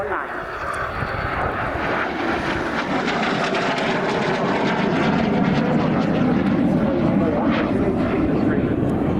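A military jet flies alone in an air show display at the Royal International Air Tattoo, a loud continuous roar of engine noise holding steady and close throughout.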